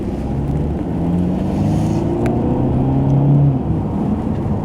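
Steady engine drone heard from inside a moving 2019 Mercedes-Benz SLC 300 roadster, rising slightly in pitch as it accelerates, with a low road rumble underneath.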